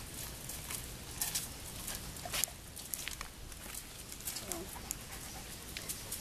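A dog pants steadily and close by in soft, breathy rhythmic puffs, with a few faint scuffs and pattering sounds scattered through and no talking.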